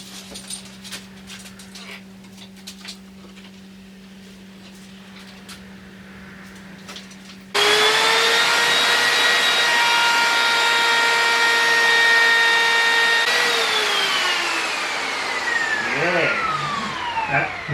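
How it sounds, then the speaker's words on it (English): A router trimming the edge of a worktop for a VW Transporter campervan build: a loud, sustained high whine that starts abruptly after a quieter stretch with a steady hum, then dips in pitch as it cuts. "I'm going to get this set up now and then router that little bit out."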